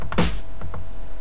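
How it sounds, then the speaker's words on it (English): A lone dubstep snare hit, sharp and noisy with a gritty, crackling tail, followed by a couple of softer echoing taps. "It's kind of scratchy and punchy at the same time"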